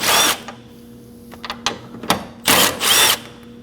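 A socket tool working 10mm bolts loose from the intake tube of a 2011-2016 Kia Optima, heard as short bursts of whirring ratchet or driver noise separated by pauses and small clicks, close by.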